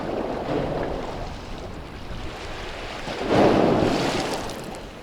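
Steady wash of sea waves on the shore with broadband rushing noise, swelling louder near the end as a wave breaks close by, with some wind.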